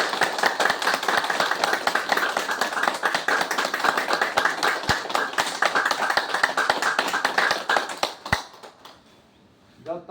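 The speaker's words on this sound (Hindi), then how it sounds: "जब ताली योग करते हैं देखो हाथों में झंझनाहट महसूस होती है" Rapid, steady hand clapping during clapping yoga in a heart-patient yoga class, dense and continuous for several seconds before stopping abruptly, with some voices faintly underneath.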